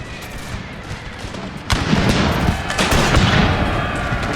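Musket infantry volleys in Total War: Thirty Years War, a quieter crackle of distant shots that swells abruptly into dense, loud rolling gunfire at close range.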